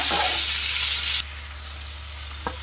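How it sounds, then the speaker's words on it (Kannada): Tomatoes frying in a pan for a spicy fish gravy, a steady broad sizzle that drops to a quieter hiss partway through, with a brief stir or clink near the end; no talking. "ಟೊಮೆಟೊ ಹಣ್ಣು ಮೆತ್ತಗಾಗೋ ತನಕ ಫ್ರೈ ಮಾಡೋಣ"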